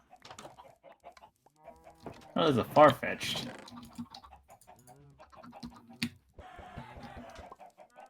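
Minecraft chickens cluck in a loud cluster midway through, mixed with key clicks and game noises while someone talks briefly over them.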